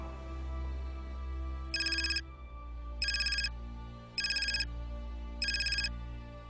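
A telephone signals an incoming call with four short electronic ringtone bursts, evenly spaced over a low background hum, with no talk.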